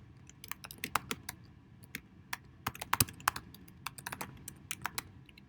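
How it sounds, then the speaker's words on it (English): Keys clack in quick irregular bursts, a close, crisp typing rhythm with short pauses between runs of keystrokes. "keep typing these different pieces in"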